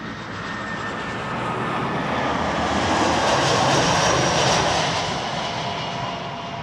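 A plane landing at Toronto Pearson Airport gives a steady, broad engine roar that swells to a peak midway as it passes, then fades slightly, with no voices over it.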